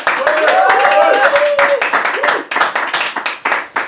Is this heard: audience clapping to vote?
yes